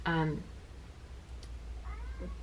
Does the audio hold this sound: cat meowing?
yes